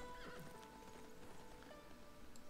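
Horses neighing and whinnying with clip-clopping hooves from barbarian horsemen in the strategy game Civilization 6, over a busy layer of game music and effects.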